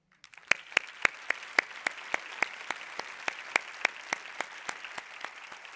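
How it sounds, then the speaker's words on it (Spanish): Steady, evenly spaced claps ring out at a school radio program, sharp and fairly close, repeating at a brisk regular pace with no talking over them. "hoy todos se merecen un aplauso"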